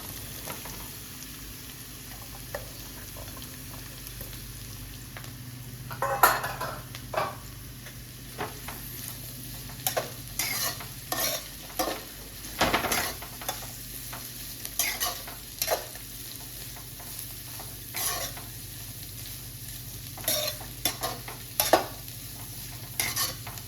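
Cabbage is stir-fried in a pan for a street-food recipe, a soft steady sizzle punctuated by frequent clanks and scrapes of a spatula against the metal.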